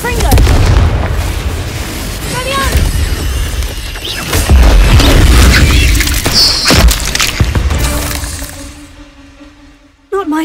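A Confringo blast spell in the Hogwarts Legacy video game sets off loud booming explosions, with rumbling bursts repeating over about ten seconds, mixed with game effects and a voice, before a sudden cutoff.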